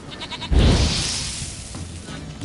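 A goat in The Witcher video game gives a loud, close, wavering bleat lasting about a second, which fades into a quieter tail with faint background ambience and no speech.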